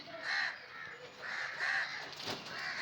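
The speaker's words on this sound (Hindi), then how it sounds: "और अब ये सामने से क्रो जा रहा है" Crows cawing near scattered birdseed outdoors, giving several loud, harsh caws in a repeating rhythm, fairly close, with no talk over them.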